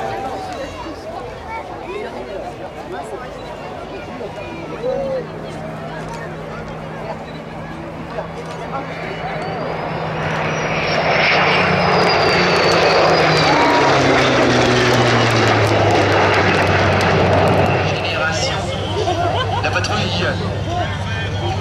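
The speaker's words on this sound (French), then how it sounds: "80 ans d'aviation militaire de chasse vont maintenant survoler dans le ciel de Cambrai." A Rafale jet with Corsair and Spitfire propeller warplanes passes overhead at an air show in Cambrai, the engine drone building from distant to a loud, sustained roar, with crowd babble and an announcer's voice beneath.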